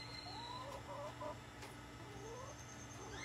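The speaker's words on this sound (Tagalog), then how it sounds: "Ang mga makukulit na manok na sobrang ingay." Noisy backyard chickens cluck in short, intermittent calls over a constant background hum, faint and a little distant.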